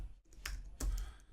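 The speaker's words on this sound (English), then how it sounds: "So I'm going to start typing a Google search here." Typing a Google search on a computer keyboard, a few close, crisp key clicks in an uneven rhythm with no talk.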